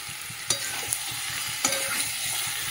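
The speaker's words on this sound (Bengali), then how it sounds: "দিয়ে এবারে কষাবো চিকেনটা ভালো করে" Chicken and capsicum pieces sautéing in oil in a pan, a steady close sizzle with two sharp scraping clatters from the spatula partway through and softer stirring knocks between.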